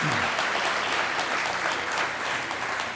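Audience applause for volunteers at a mayor's reception and chamber volunteer awards ceremony: steady, dense clapping from a large crowd, loud and continuous for the whole stretch with no break.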